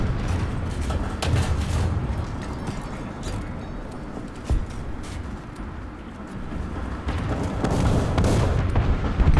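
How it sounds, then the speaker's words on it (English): Artillery shells pound tanks in the War Thunder tank battle, a steady rolling roar of distant blasts and rumbling with a sharper crack near the middle and a heavier swell of booms toward the end. "Give those tanks a double blast of Artie."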